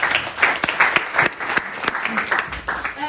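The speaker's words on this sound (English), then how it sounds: "Big applause for Jakob." An audience claps at a climate hackathon final pitch event in Tallinn, a short burst of fairly close applause that stays uneven throughout, with a voice speaking over it.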